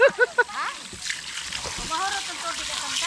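Water gushes steadily from the pipe of a homemade deep well with no pressure pump, a continuous splashing rush that follows a few short sharp sounds and runs under people talking.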